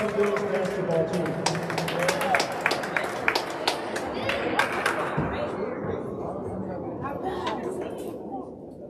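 A school winter sports ceremony crowd applauds the 2022 varsity girls basketball team, dense clapping from many hands that thins out and fades toward the end, with voices mixed in.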